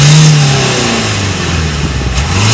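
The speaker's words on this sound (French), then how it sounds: "Vas-y, tape dans l'accélérateur" The engine of a 2020 Renault Modus revs up from idle, rising and falling in pitch, loud and close, with no talk over it.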